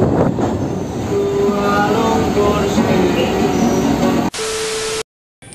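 A Kolkata Circular Rail local train runs along the line, a loud close rumble of wheels with a faint high squeal throughout, cut off abruptly near the end by a brief different sound and then silence.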